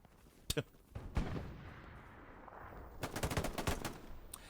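Machine gun fire in the video game Hell Let Loose: sharp bursts of shots, a couple early and a rapid rattling volley later, over a low rumbling battlefield background.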